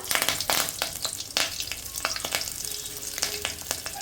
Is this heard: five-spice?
yes